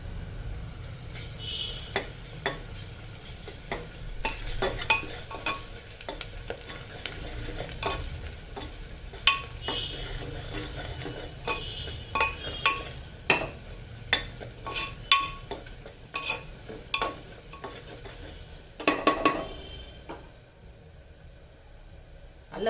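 Ginger garlic paste sizzles in a pot for mutton curry while a spoon stirs and scrapes steadily, with frequent metallic clinks against the pot over a constant frying hiss.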